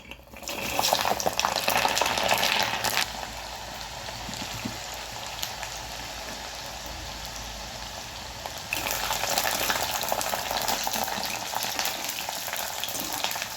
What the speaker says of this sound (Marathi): कढईमध्ये ना मी तेल ठेवलेलं आहे तापायला तर ते छानपैकी आपण आहे ना आता तळून घेऊया लसूण